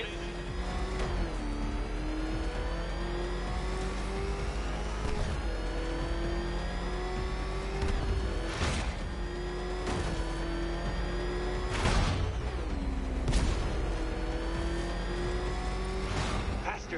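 The Batmobile's engine in Batman: Arkham Knight, a steady revving drone that rises and dips in pitch, with repeated sharp impacts and whooshes punctuating it throughout.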